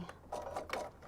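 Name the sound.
sewing machine top stitching a zipper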